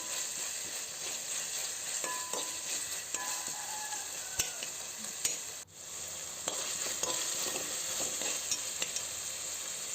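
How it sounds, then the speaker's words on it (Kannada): Tomatoes fry in a pan for chicken biryani, with a steady bright sizzle broken by occasional stirring scrapes and small clicks, close and unaccompanied by speech. "ಸೊ ಟೊಮೆಟೊ ಹಾಕಿ ಚೆನ್ನಾಗಿ ಫ್ರೈ ಮಾಡ್ಕೊಳ್ಳಿ"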